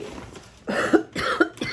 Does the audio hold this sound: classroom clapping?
no